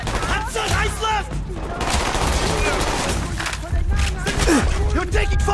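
Video game gunfire from Call of Duty Black Ops, rapid loud bursts of automatic shots mixed with explosions and battle din, with soldiers shouting and talking over the fighting throughout.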